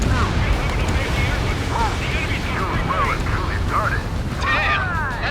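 Destroyed targets blow up in Ace Combat 7: Skies Unknown during a pipeline-destruction mission, a dense continuous rumble of blasts and gunfire with sweeping tonal whines and voices layered over it.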